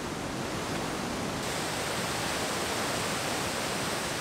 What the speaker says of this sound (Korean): 크고 작은 계단식 물줄기의 길이가 무려 3km에 이르는 거대한 바탄나 폭포